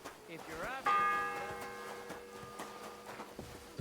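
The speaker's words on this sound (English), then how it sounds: "The first bell." A church bell in the medieval video game Kingdom Come: Deliverance II strikes once with a clear metallic clang, its ringing tone decaying slowly under faint background sounds.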